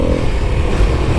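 Kawasaki KLX300 dirt bike ridden at speed across open desert, a loud, close engine drone mixed with wind rush and rattling from the chassis, steady and constant through the short moment.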